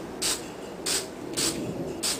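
Fast-dry spray paint hisses from a can in four short, evenly spaced bursts, close and fairly loud over a quiet room background.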